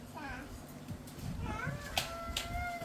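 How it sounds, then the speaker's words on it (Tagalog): A cat meows a few times, short rising cries amid household noise, while people talk close by. "Daming pusa."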